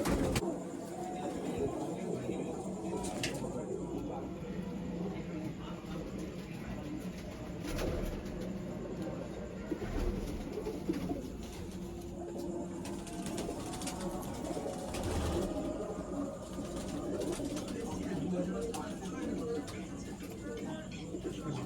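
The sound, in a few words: pigeons cooing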